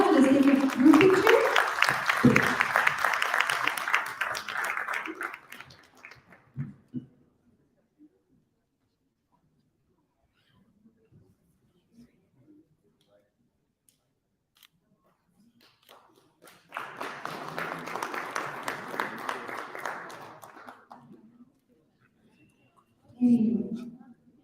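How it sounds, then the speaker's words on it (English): Audience applause at a youth human rights summit comes as a burst of clapping that fades into quiet, then a second, softer round of clapping, with a voice speaking at the end. "Please big round of applause."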